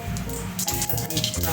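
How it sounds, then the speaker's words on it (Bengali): Tempering spices, cumin with bay leaf and dried red chillies, sizzling in hot oil for vegetarian ghugni, a dense, steady close-up crackle and hiss that fills the whole moment, with faint voice-like murmurs underneath. "গরম হয়ে গিয়েছে, এবার আমি ফোড়নটা দিয়ে দেব।"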